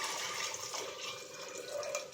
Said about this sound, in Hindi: अब मैं इसमें डाल देती हूँ पानी